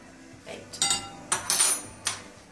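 Cake batter of eggs and flour being stirred in a mixing bowl, heard as several clinking, scraping strokes of a utensil against the bowl at an uneven rhythm, close and fairly clear with no talk.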